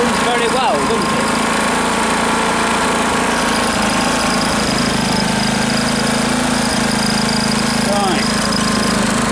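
A Honda petrol generator runs steadily throughout, a loud continuous engine drone with a rough mechanical rattle, while someone talks briefly over it.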